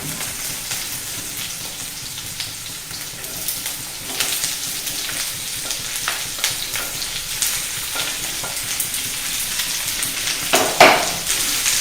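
Chopped onions with a pinch of salt sizzle steadily in hot oil for a South Indian masala dosa filling, with close stirring scrapes and a louder burst of frying near the end.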